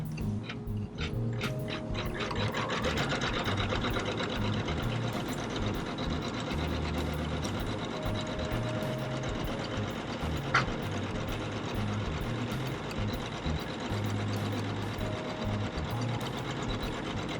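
A home embroidery machine stitching an appliqué in the hoop runs steadily throughout, giving a rapid, even mechanical clatter of needle strokes at close range.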